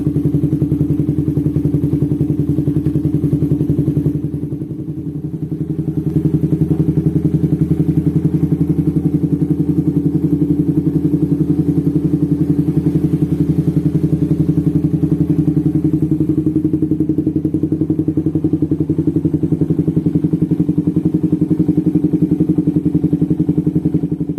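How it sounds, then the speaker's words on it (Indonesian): Suzuki Satria FU 155cc motorcycle engine, still breaking in, idles steadily through its original stock exhaust, fitted with a 64mm FiM oversize piston. A loud, even, continuous hum with a brief dip early on and no talk. "Untuk bunyi knalpotnya sangat merdu ya, sangat gahar. Karena menggunakan original."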